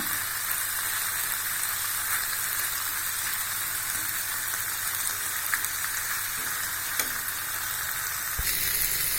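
Potatoes fry in a pan with a constant, dense sizzle and crackle, close and fairly loud, with an occasional soft knock.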